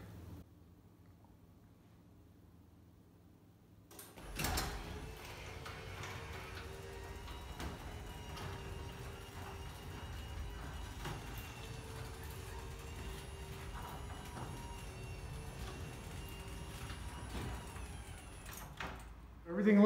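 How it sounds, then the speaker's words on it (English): Electric garage door opening in a home garage, starting abruptly after a quiet stretch and running as a steady mechanical rumble and whir, close by, for about fifteen seconds. "To see if the garage door clears it."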